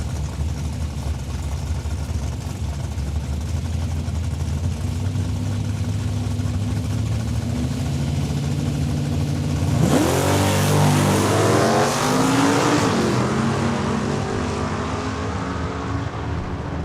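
Chevelle and Mustang drag racing at Saskatchewan International Raceway in Saskatoon, engines idling and rumbling at the line before a loud burst of hard revving acceleration that roars away down the track.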